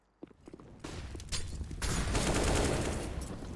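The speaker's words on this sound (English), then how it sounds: "There's the instant headshot down to B." Rapid bursts of gunfire in a CS:GO match, including a headshot, start with a few sharp shots and build into sustained, loud firing that runs to the end.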